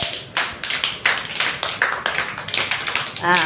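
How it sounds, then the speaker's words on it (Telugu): A group of children clapping in a classroom, a quick run of sharp, close hand claps over about three seconds with a teacher's voice briefly heard near the end. "క్లాప్స్ కొట్టండి మీరు అందరూ."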